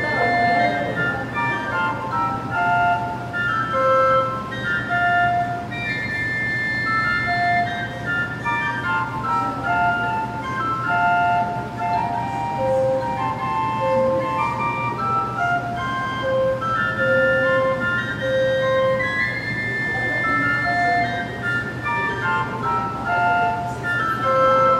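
A bamboo pipe organ plays a slow melody on the second-manual flute 4 stop, bright sustained notes over a steady low hum, filling the space evenly throughout.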